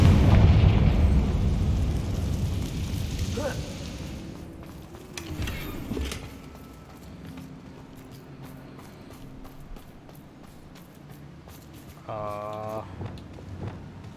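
A Confringo fire spell in Hogwarts Legacy bursts at the start with a loud, rumbling explosion that fades over several seconds into quieter game ambience, with softer thuds and a brief tonal chime later on.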